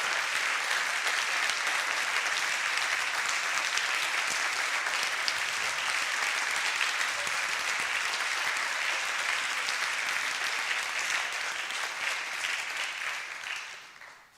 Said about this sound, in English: Please, a round of applause for all these exemplary first people